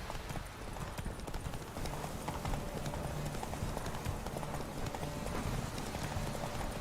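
Hooves of a horse named Roach galloping in The Witcher 3: Wild Hunt, a steady rapid clip-clop held at moderate volume and mostly alone throughout, with faint speech-like sounds in the background.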